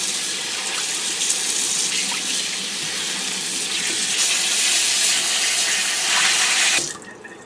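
Tap water runs steadily into a sink while a freshly cleaned trout is washed out, a loud continuous gushing hiss that cuts off abruptly near the end.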